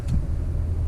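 A 2006 Toyota Tundra V8 4WD pickup driving on the road, a steady low rumble of engine and road noise heard from inside the cab.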